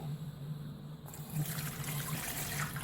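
Water pours steadily into a pot of potatoes in a multicooker pressure cooker, a continuous close trickling and splashing that grows fuller and brighter partway through, with no voices.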